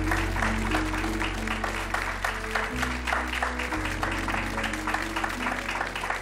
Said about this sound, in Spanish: Vamos a dar un aplauso a Guayarmina.